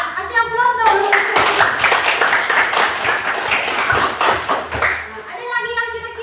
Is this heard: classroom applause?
yes